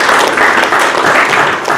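Loud, close applause from a dinner audience at a finalists' event, dense continuous clapping filling the whole moment without speech.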